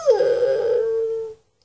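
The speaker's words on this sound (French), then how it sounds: "Mon chat est en train de chialer." A house cat gives one long, drawn-out wailing whine that starts loud and sliding, then holds and fades before cutting off, close and alone in a quiet room.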